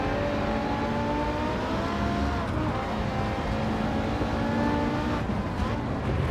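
Steady car engine drone in Gran Turismo 7 played in VR, held at a constant high pitch throughout with slight shifts in tone as the car drives.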